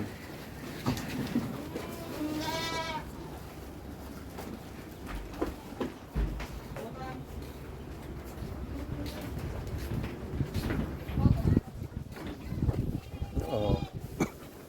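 Goats being fed peanut leaves bleat a few times, near and far, over a steady background of rustling and animal noise with occasional thumps.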